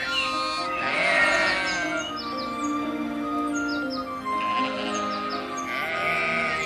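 A flock of sheep bleats on a mountainside, several overlapping calls rising and falling close by, with faint bird chirps mixed in.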